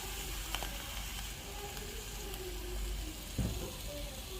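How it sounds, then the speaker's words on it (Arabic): Mushrooms fry with butter in a pan, a soft continuous sizzle with occasional clinks and stirring knocks, quiet and close, no one talking. "فطر، نحط عليهم زبده ونقلبهم شوي مع بعض"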